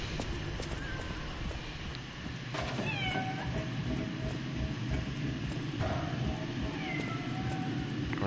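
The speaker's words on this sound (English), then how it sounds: "Oh, there's a cat." A cat meowing in the hotel's upper floors in the video game Lies of P, with a few drawn-out meows over dense, loud game background noise.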